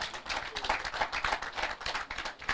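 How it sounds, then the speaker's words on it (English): An audience at a media launch event applauds, producing a dense patter of clapping hands at moderate distance, fairly soft and steady. "that deserves a big round of applause"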